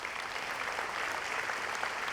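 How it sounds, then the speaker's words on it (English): Graduates and guests at a May 2014 graduate commencement ceremony give a soloist a round of applause, a short, even stretch of many hands clapping together at a moderate distance. "Let's give her a round of applause."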